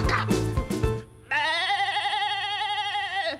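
A voice imitates a goat, letting out one long, wavering, nasal bleat that lasts about two seconds, loud and close, after a brief burst of clattering noise.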